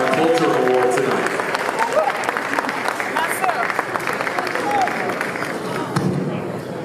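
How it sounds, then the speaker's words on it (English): Audience applause at an Africa Day 2023 celebration in Houston after a violinist receives a Culture Award, sustained clapping from a crowd with voices talking over it throughout. "Give another round of applause."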